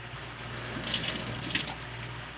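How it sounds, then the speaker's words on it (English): Hands are washed under a running kitchen tap, a steady splashing stream of water with brief brighter splashes as the hands move through it, fairly close and with no talking. "I had to wash my hands."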